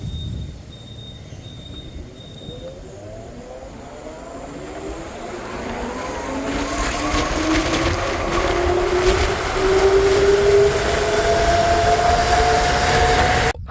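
An Ola S1 Pro electric scooter accelerates in normal mode, its motor whine climbing steadily in pitch and growing louder over road and wind noise, with no talking.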